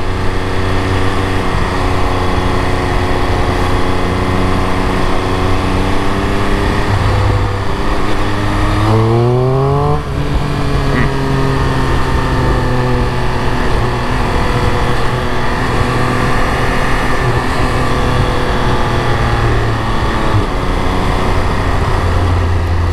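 A 2022 Triumph Speed Triple 1200 RS motorcycle engine rumbles loudly with a throaty stock exhaust, revving up briefly and then holding a steady drone, close by.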